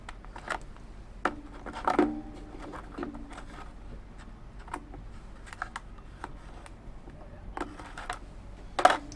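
Scattered soft snips and clicks come as braided propeller shaft packing is cut at an angle, faint and close, with irregular gaps between cuts.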